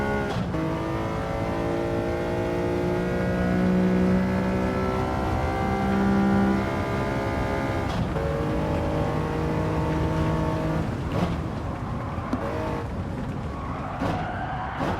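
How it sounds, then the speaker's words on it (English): A tuned car engine in a racing game holds steady harmonic tones through a throttle-lift test, the pitch dropping and recovering in a couple of shifts, with a faint tire skid underneath; the engine drones loud and close throughout. "Testing the throttle lift."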